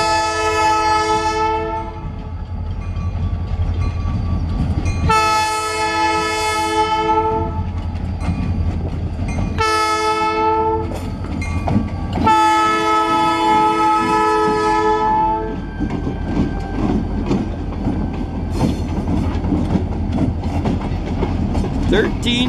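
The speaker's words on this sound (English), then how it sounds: "Just happened to hear this train out here today" A train rolls past outdoors, its horn sounding in several long blasts over the continuous rumble and clatter of the cars, with a steady rolling roar continuing after the last blast.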